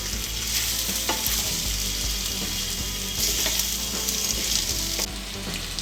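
Chicken pieces frying with onions in a pan over a medium gas flame, stirred throughout, giving a loud continuous sizzle broken by scraping and clattering strokes.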